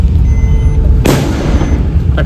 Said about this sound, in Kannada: ಪಟಾಕಿ ಬೇರೆ ಹೊಡೆದು